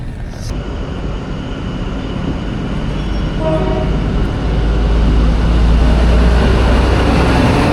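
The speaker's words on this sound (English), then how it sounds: "this train goes to Sydney" A train rumbles loudly at a country station on the line toward Sydney, a steady low roar of wheels and engine building gradually, with a brief squeal partway through.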